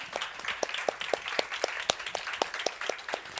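An audience at a startup accelerator demo day applauds the panelists, a steady patter of clapping with a few sharp, close claps standing out, moderately loud.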